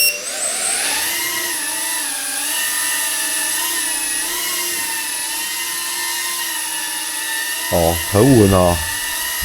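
A Tornado 25 2.5-inch FPV drone with a 22.8V high-power upgrade holds a steady, loud, high-pitched propeller whine during a test flight, with slight pitch shifts; a voice speaks briefly near the end.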